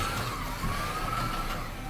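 A 1/43 scale slot car runs flat out on a Carrera GO track, giving a steady high-pitched motor whine that rises and falls slightly as it laps, over a constant whirring background.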